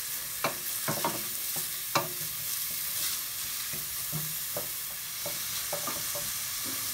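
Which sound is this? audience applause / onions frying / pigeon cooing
onions frying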